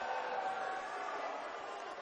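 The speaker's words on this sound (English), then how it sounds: "The Red Devil crowd didn't really like that call either." Basketball crowd in a high school boys' gym, a steady, dense roar of many voices reacting together, sustained and fairly loud for two seconds without a clear break.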